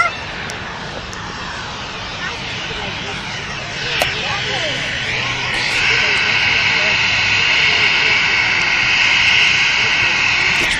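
A plane comes in to land at Manchester Airport, its engine drone building steadily and growing louder through the second half, heard outdoors with people talking nearby throughout.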